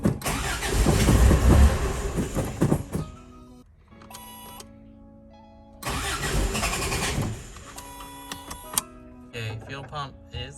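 An old Toyota Celica engine cranks and tries to catch with a fuel pump fault, two loud churning bursts separated by quieter idle-like gaps, close up, with clicks and tones between attempts.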